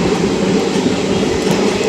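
The Rajya Rani Express passenger train, moving through Odisha, gives a loud, close, steady rumble with wheels grinding on the rails. No voices are heard.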